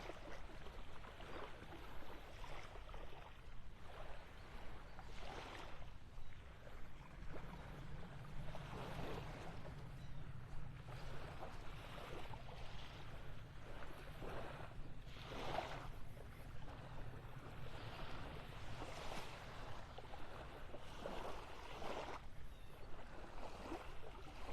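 Ocean waves washing onto a beach at North Naples, Florida, heard as a steady broadband surf wash with repeated soft surges, close and fairly quiet, with some wind and no talking.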